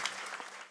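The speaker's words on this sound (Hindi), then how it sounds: "एक बार पुनः ताली उनके सम्मान में।" A brief burst of steady audience clapping fills the hall at a devotional program honoring Shani and Lakshmi, a dense wash of many hands applauding with no voices over it.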